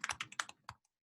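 Quick burst of about eight keystrokes on a computer keyboard, close and crisp, typed in a rapid uneven run before falling silent.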